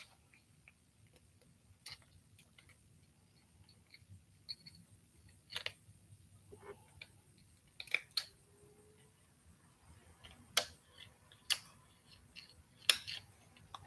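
Scissors snipping a damaged knot off fishing line, several crisp isolated clicks spaced out over quiet background, close and fairly faint.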